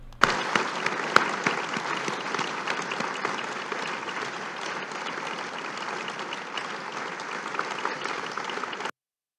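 Ministers, political bureau members and staff applaud together at a political event, a dense, steady wall of clapping that holds evenly for about nine seconds before stopping abruptly.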